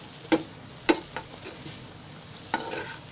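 Bitter gourd frying on a gas stove and being stirred in the pan, with a few sharp spatula scrapes over a soft, steady sizzle and no talking.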